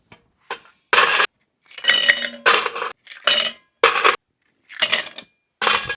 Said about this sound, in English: we will fill our cocktail shaker with a generous amount of ice again